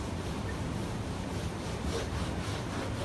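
Rag wiping glue off an edge grain cutting board during clamped glue-up, a steady close scrubbing swish of cloth against wood, continuous and alone.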